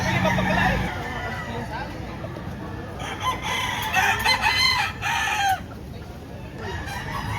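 Roosters crow repeatedly among clucking fowl at a busy chicken market in Lipa, Batangas, with a crowd chattering throughout and a few louder crows rising over the babble.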